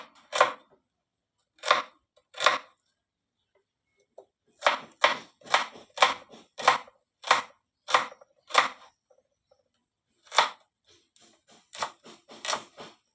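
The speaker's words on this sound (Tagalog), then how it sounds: "gayak-gayak muna tayo ng sibuyas" A knife slices onions on a cutting board with crisp, sharp chops, single cuts at first and then quicker runs of close, dry strokes separated by short pauses.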